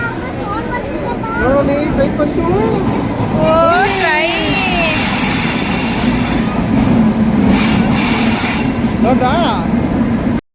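A train rolls along with a continuous heavy rumble while people, including a child, talk and exclaim nearby over the noise.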